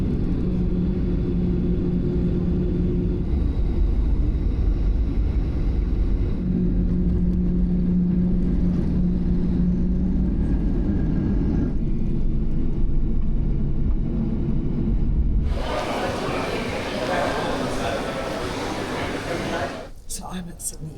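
Airliner cabin on approach into Sydney on a flight from Sunshine Coast Airport: a steady, loud low engine and airflow drone fills the cabin, then shifts to a brighter, hissier roar near the end before cutting off.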